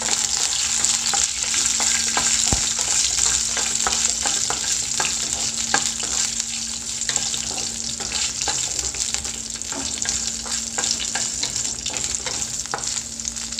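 Garlic, onion and chillies sauté in a pan with a loud, dense crackling sizzle, heard up close. Frequent sharp spatters and the scrape of stirring run through it without a break, and no one speaks.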